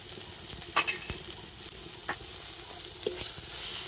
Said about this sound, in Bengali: তেলের সাথে সব কিছু একটু ভেজে নিয়ে